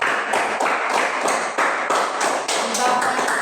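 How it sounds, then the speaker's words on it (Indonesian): Hands clapping together in a classroom as a round of applause, a dense, steady patter of many claps lasting a few seconds, fairly loud and close. "Oke, tepuk tangan."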